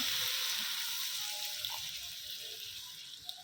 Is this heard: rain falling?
no